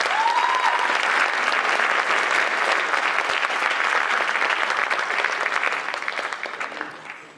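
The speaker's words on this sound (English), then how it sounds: "could we please give the coaches one more round of applause?" An awards-ceremony audience at a winter sports awards event claps for the coaches, a dense, steady round of applause filling the room from the start and tapering off slightly toward the end, with no voices over it.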